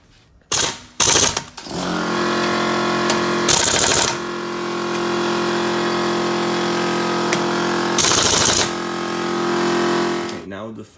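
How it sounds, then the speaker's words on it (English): Bursts of a power impact wrench tightening wheel bolts on a Smart Roadster front wheel, several loud close rattling hammer runs, with a steady motor drone between them. "We will have to tighten these bolts at 110 Newton meters to firmly secure the wheel"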